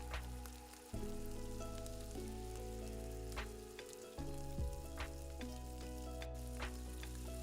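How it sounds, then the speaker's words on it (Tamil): Cashew nuts fry in a pan, giving a continuous close sizzle with light stirring scrapes and occasional crackles, no voices heard. "அதில் கொஞ்சம் முந்திரி பருப்பு போட்டு லைட்டாக பொன்னிறமாக வறுக்கணும்."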